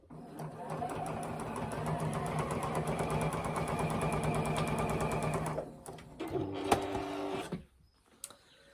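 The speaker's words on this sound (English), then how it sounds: "I'm just going to sew from here to here" A sewing machine stitches quilt binding in a steady, fast whirring run lasting about five seconds, then stops, followed by a few soft handling clicks and rustles.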